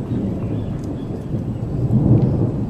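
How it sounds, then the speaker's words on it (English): Low, rolling thunder rumbles continuously in the distance, a deep muffled roar that grows a little louder near the end. "do you hear that thunder?"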